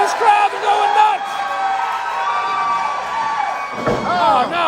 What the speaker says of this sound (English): Listen to this crowd. They're going nuts.